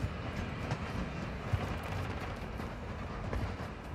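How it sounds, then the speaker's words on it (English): A tram in the video game Warzone 2 rolls along with a steady rumbling, rattling drone and faint clacks, sounding continuous and fairly close throughout with no voices over it. "This is our final stop. Please exit either side of the tram."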